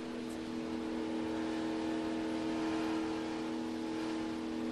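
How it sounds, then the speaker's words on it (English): A NASCAR stock car engine holds steady near its rev limiter, a loud, sustained droning whine with a stable pitch and no break, heard without speech. "I'd get up to the rev limiter and just hang right there"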